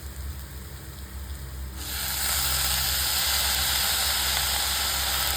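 Chopped banana flower sautéing in hot oil with turmeric for a traditional poriyal, a quiet background hum suddenly giving way to a loud, steady broadband sizzle that holds for several seconds.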